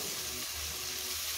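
Cluster beans tipped into hot oil in a pan for a mixed vegetable bhaji, giving a steady, close, loud sizzle and hiss throughout with no talking.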